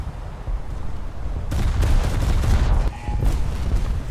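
Naval gunfire from battleship guns in a warship video game featuring HMS Queen Mary, heavy booming salvos rolling into a continuous loud rumble with a sharp fresh blast midway, close and dominant.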